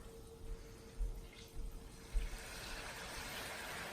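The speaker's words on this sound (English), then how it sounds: "now we need to add about a 1/4 cup water" About a quarter cup of water poured into a pan to steam pan-fried food, giving a soft, faint, continuous watery hiss and trickle that builds over a few seconds, with light knocks early on and no talking.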